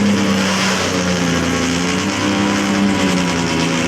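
Snowmobiles at a drag race roar loudly nearby, a sustained high-revving engine drone with rising pitch that fills the whole span, with no speech.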